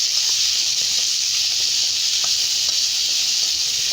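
Torn tomatoes cooking down in a pan for garlic chutney hiss with a steady, loud sizzle, broken by faint stirring clicks and taps throughout, with nobody speaking.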